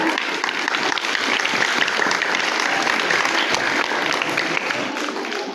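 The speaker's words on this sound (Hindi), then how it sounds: "जब उनका प्रोग्राम अच्छा लगे तो, और तुम ताली बजा दो" Dense, sustained audience applause after a children's program, many hands clapping steadily and fairly loudly throughout with no break.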